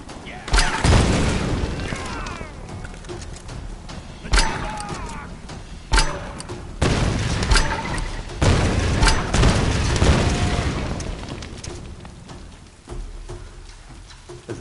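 Grenade blasts in Tomb Raider (2013), several heavy booms spaced a few seconds apart with crackling debris and gunfire between them, loud and close over a rumbling battle background.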